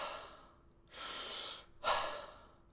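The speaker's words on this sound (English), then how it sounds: "Take in 30 to 40 deep breaths and follow each breath by exhaling" Wim Hof method breathing: a quiet, close pair of deep breaths, a long rushing inhale followed by a forceful exhale, soft and intimate with no talking.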